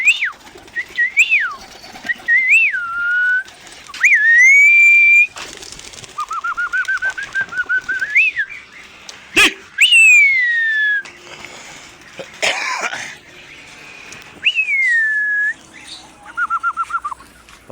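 Domestic pigeons on a rooftop after rain, with close, repeated whistling calls, cooing and chirps rising and falling throughout, plus occasional wing flutters and clatter nearby.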